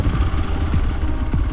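A motorcycle engine running at idle right after starting for an off-road ride near a fort, a close, steady low rumble with light mechanical clatter throughout.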